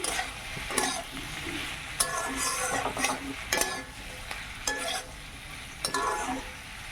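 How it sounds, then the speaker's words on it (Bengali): Green chilli and onion sizzling and frying in a pan, with a steady hiss broken by repeated scraping stirs of a spatula against the metal, close and fairly quiet, no talking. "সুন্দর করে লাল লাল করে ভেজে নিয়েছি"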